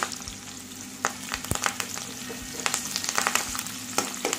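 Onions, mustard seeds, cumin, green chilies and curry leaves frying in hot oil for sambar, a loud steady sizzle with crackling pops and stirring scrapes throughout.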